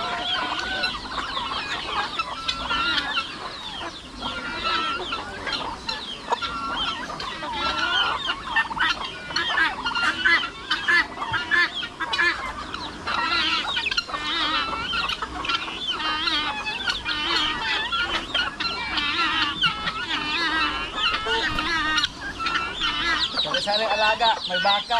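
A crowd of farm chickens clucks and squawks continuously and loudly, mixed with turkeys and guinea fowl, forming a dense, busy racket of overlapping calls.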